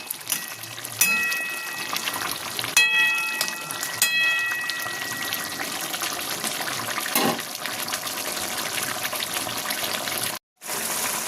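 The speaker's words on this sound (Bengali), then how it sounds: "এবার মাছটা আমি ঝোলের সাথে খুব ভালোভাবে ফুটতে দেব।" Bata fish curry bubbling and simmering in its gravy in a pan, a steady wet sizzle and bubbling with scattered pops and clicks, close and moderately loud.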